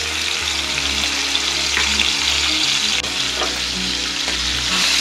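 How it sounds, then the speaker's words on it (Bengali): Shrimp frying in hot oil in a kadai on the stove, a loud, steady sizzle with faint crackles and occasional stirring clinks, close up and continuous without any voice. "কড়াইতে চিংড়ি মাছ ছেড়ে দিয়ে ভাজা ভাজা করে নিচ্ছি 2 মিনিটের মতো।"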